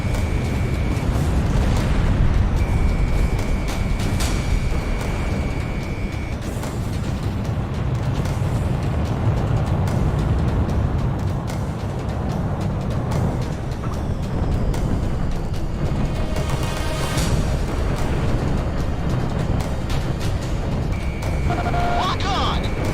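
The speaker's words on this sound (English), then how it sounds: "Garuda 1 launched missile." Missile launches and explosions in the Ace Combat 6 flight combat game, a dense, continuous roar of rumbling booms and jet noise throughout, loud and sustained, with radio chatter voices over it.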